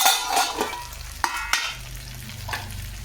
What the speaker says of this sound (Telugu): నేను పోపు వేస్తానండి